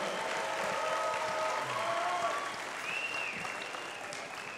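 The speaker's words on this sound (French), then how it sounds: "une bonne main d'applaudissement" A crowd at a boxing event applauds steadily in a sustained wash of clapping, with a voice faintly audible beneath it.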